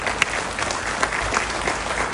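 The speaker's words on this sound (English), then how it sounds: "We need a real loud round of applause for Conrad Scindia." A crowd at a public event applauds Conrad Scindia, with dense, loud clapping and a few sharper individual claps standing out from the continuous roar.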